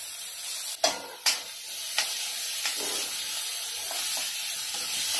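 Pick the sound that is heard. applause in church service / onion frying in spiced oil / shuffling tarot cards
onion frying in spiced oil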